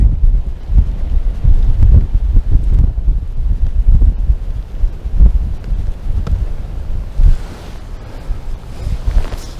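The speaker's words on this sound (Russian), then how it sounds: "Да, ветер очень сильный." Strong gusting wind buffets the microphone at a winter fishing spot, a loud continuous low roar with surging gusts and no voices.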